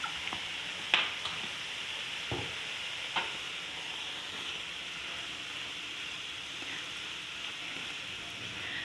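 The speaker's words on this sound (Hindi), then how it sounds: "बस अच्छी तरह इसको मिक्स करना है" A spoon stirs a spice and sauce mixture for bread kachori filling, soft scrapes and occasional clicks over a faint steady sizzle.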